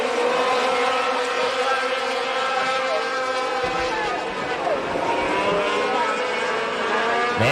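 Sport trucks racing single file in a Wisconsin heat race, several engines droning together in a steady, layered roar from a distance, with a pitch sweep as one passes and a commentator talking over it.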